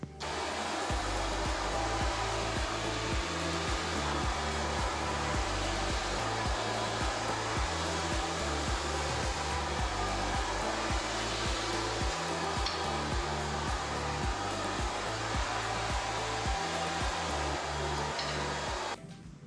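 A hair dryer blows on hair with a steady, loud, unbroken whir for the whole stretch, alone with no talking.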